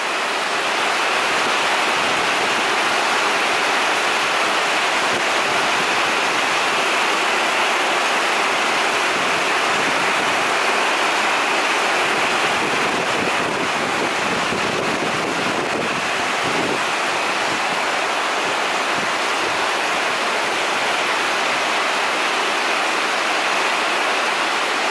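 Heavy water rushes and pours continuously during a severe mountain thunderstorm at the middle station of the Mölltal glacier railway, a loud, steady, wind-like roar throughout.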